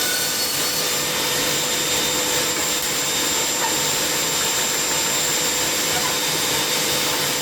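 A power tool removes wood from a large wooden assembly square, a loud, continuous whining roar with a steady grinding hiss and no pauses, close and unbroken from start to finish.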